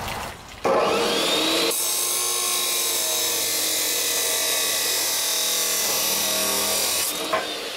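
Chop saw cutting an angled fish-mouth into roll cage tubing for a Ford Explorer or Jeep XJ cage, a loud steady high-pitched whine and grinding rasp lasting several seconds, ending with the blade spinning down.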